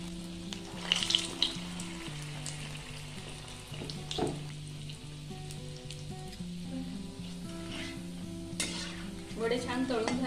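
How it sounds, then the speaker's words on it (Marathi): Dahi vada dumplings dropped into oil over a medium flame sizzle steadily, with occasional stirring and utensil clinks, over faint tonal background music. "पाण्याचा हात घ्यायचा आणि हे वडे तेलात सोडायचे"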